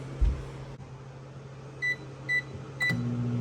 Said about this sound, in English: I'll throw it in the microwave for about 45 minutes